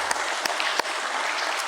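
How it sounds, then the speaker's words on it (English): Crowd applause at a company ceremony, steady dense clapping with a few sharper individual claps standing out near the start. "I want you all to clap hard and give them lots and lots of wishes for the journey ahead"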